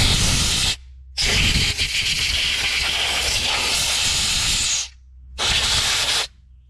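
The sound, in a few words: spraying penetrant onto a Detroit 271 diesel engine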